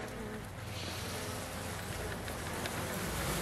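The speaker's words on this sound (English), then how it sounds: "Let's smoke the bees down so we don't crush any." A low, steady hum of honey bees buzzing close by at an opened hive being smoked, continuous and fairly quiet, with no clear speech.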